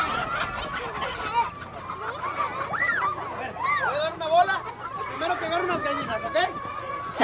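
Chickens cluck and squawk in a village scene of the film Babel, with repeated short calls and rising squeals running throughout, mixed with voices and background bustle.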